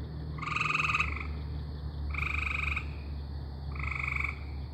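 A pet frog croaks in three separate bursts, each a loud, rattling trill over a steady low background hum, with short pauses between the calls.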